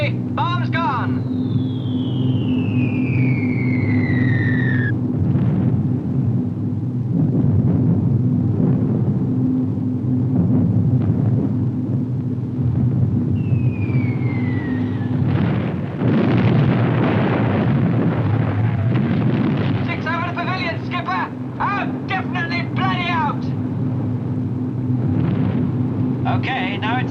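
A WW2 bomber's engines drone steadily throughout as descending whistles from falling bombs sweep down, followed midway by a rumbling broadband blast of bombs exploding under the constant roar.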